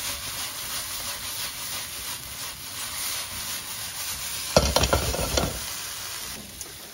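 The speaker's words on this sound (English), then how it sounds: "Just cook these through until they start to get tender." Peppers sizzle in a pan as they cook down until tender, a constant hiss with occasional stirring, then a louder burst of scraping and clatter near the end; no one speaks.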